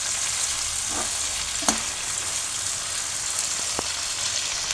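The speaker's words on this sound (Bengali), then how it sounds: "এটাকে আমি 5 মিনিটের মতো একটু ভেজে নেব" Sliced carrots and capsicum fry in a pan with salt, a steady close sizzle with occasional light clinks of stirring.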